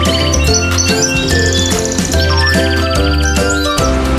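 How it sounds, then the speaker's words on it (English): Bright, tinkly chirping melody in a bird-like tone over a steady musical backing, loud and continuous throughout. "A bird in the tree started to sing very loud."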